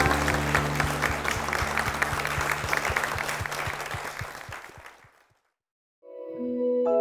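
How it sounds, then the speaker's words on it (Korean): A church congregation claps together in sustained, dense applause for about five seconds, then it fades into a brief silence before organ-like tones begin. "우리를 축복하신 주님께 영광의 박수를 드리겠습니다."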